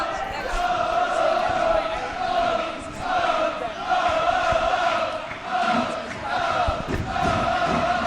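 A crowd at a varsity hockey game roars and chants in rhythmic swelling waves, loud and sustained, with rising and falling bursts of cheering filling the arena.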